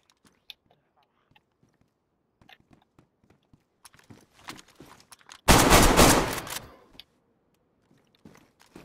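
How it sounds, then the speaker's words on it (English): A sudden loud burst of rapid gunfire rings out in the survival game DayZ, a dense volley of about a second and a half, preceded and followed by quiet, sparse clicks and small noises. "somebody's shooting at us"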